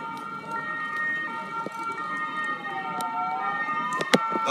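An emergency vehicle siren wails steadily at a civil protection drill, its rising and falling tone sounding fairly close over low outdoor bustle.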